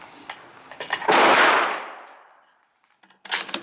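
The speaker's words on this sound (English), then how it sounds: "let's shoot some more" Single loud shot from a 5.7 rifle at close range, its blast ringing out and decaying over about a second, followed by a faint clack and a quick burst of clicks or another short report at the end.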